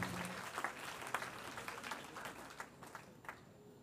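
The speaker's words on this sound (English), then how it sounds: "Let's clap our hands to the Lord for these men and women" A church congregation claps hands in worship at a general conference. Scattered, fairly distant applause runs steadily through the clip with a few sharper claps standing out.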